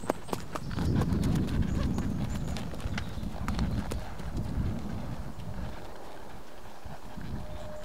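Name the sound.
Arabian horse hooves clip-clopping on a ride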